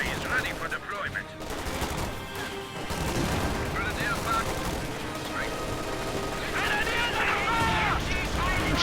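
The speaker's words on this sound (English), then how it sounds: "Machine gun successfully suppressing all of these infantry squads" Machine gun fire in a strategy video game, rapid bursts cracking over a dense mix of game battle noise, other gunfire and shouting voices, steady and loud throughout.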